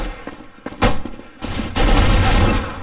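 Loud gunfire in Counter-Strike: Global Offensive, with a few sharp close shots, a heavy blast, then a sustained dense volley of rapid fire that keeps going to the end.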